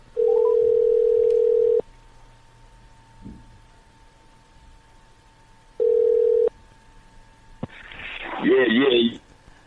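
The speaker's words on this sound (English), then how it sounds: "Pick up your phone, Jersey. I'm calling through." Telephone call ringing through on a radio show: a long steady tone, a pause, a second shorter tone, then a burst of line noise and garbled voice as the call connects.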